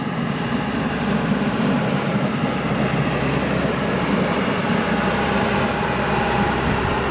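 A steady, loud rumble of Union Pacific maintenance-of-way rail equipment, including a flanger and ballast spreader, rolling past nearby in New Mexico, with continuous wheel and track noise throughout and no pauses.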